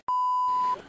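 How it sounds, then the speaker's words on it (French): A single flat electronic censor beep sounds for well under a second, loud and steady, with a short stretch of background noise as it ends. "Je vais être obligé de mettre un bip."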